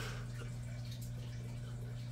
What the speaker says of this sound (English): pond spillway waterfall right there